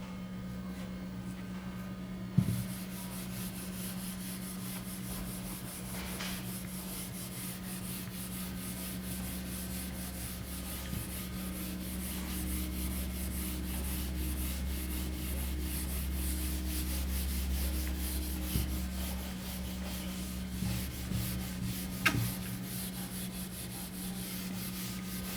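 A writing board is rubbed clean during a classroom-style lesson, producing a long, continuous scratchy rubbing close by, with a few louder knocks scattered through it and no talking.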